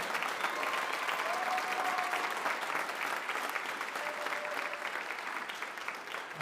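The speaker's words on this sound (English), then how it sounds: "Can we give Tom Tucker, stand up, Tom, one more round of applause for all his good work?" A crowd at a band gathering applauds continuously, a thick steady wash of many hands clapping throughout, fairly distant and even in level.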